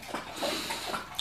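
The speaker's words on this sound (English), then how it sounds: "He's over there licking, he's drinking water." A dog laps up drinking water indoors, a quick rhythmic run of soft wet splashy laps heard close and alone.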